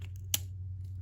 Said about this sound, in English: I'm going to cut off that pointed edge.